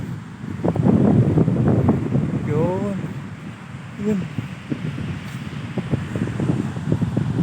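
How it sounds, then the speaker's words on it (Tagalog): Large ocean waves rolling in at a white-sand beach, their wash and rumble mixed with gusting wind noise on the microphone, partly under a man's nearby speech. "Ang laki ng alon ngayon guys."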